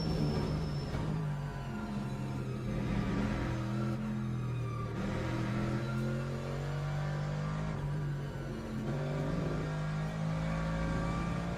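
A GT3 race car at the Spa circuit in the game Le Mans Ultimate holds a loud, steady engine drone that rises and falls through gear changes and revs.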